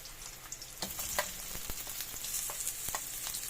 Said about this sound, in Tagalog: isusunod na po natin igisa ay itong 1/4 kilo na pork na hiniwa na rin po